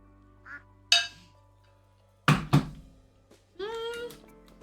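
Video game ducks quacking in short, separate bursts: a few single quacks, then a louder double quack and a final drawn-out nasal call, heard alone over a faint steady hum.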